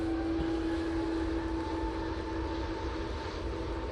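Lufthansa City Airbus A320neo jet at Manchester Airport, a steady engine roar with a sustained whine, heard from a distance and holding constant throughout without any voices.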